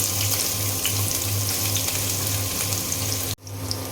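Onions and green chilies frying in hot oil for potato bhaji, a steady loud sizzle with a low hum, cut off abruptly near the end before a quieter hiss resumes.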